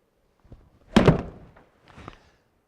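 A golf club strikes a ball on the driving range for a shot shaped to curve left: a sharp, solid thwack stands out alone, with a fainter tap just before it and a small clatter shortly after.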